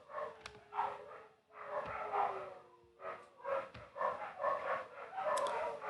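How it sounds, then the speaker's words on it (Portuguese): Several dogs bark and yip in a series of irregular bursts, moderately near, some sharp and some whining, continuing without talk. "Ai, ai, cachorrada."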